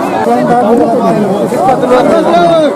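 A dense crowd chattering while queuing for food at a hospital in Munger, many overlapping voices forming a loud, continuous hubbub close by.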